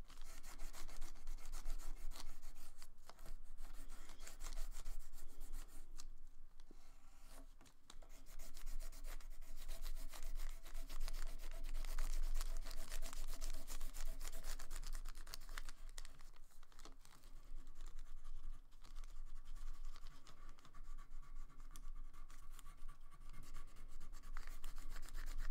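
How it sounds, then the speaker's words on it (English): Crayon rubbing across paper while coloring a paper scarecrow cutout, a close, continuous scratchy scraping with rhythmic back-and-forth strokes and brief pauses, no talk. "I'm gonna color it with my fall crayon, just to give it some texture."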